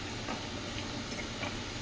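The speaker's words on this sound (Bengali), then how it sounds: "এই যে রাঙা আলুগুলো এরকম করে ভেজে নিচ্ছি" Sweet potato pieces frying in a small amount of oil, a steady close hiss of sizzling with faint crackles and no voices.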